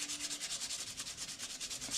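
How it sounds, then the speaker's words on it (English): Steady back-and-forth hand-sanding strokes rubbing across wood, close and rhythmic, repeating about every tenth of a second with no talking. "I just got to keep sanding until that's all gone"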